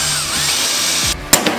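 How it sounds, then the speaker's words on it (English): A power drill bores out rivets on a 4x4 canopy, a continuous loud whine and grind close by that cuts off abruptly near the end, followed by a couple of clunks. "I'll get some marks and I'll drill them out"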